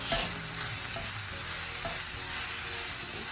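BBQ jackfruit seasoned with garlic powder, onion powder and black pepper cooking in a pan, a loud, constant sizzle close up with a few spatula stirs and no talking.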